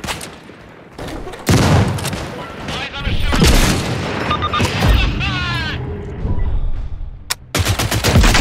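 Gunfire and a flashbang in the tactical shooter video game Caliber, with loud rapid bursts of automatic fire, sharp single shots and a heavy bang, close and dense, while voices shout over the shooting.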